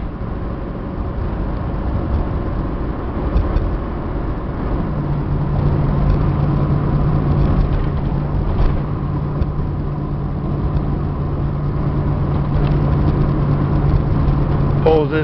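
A Chevy-powered Class C motorhome engine pulls steadily up a hill under light throttle, a continuous mid-pitched drone with a faint steady whine, heard from inside the cab and without speech.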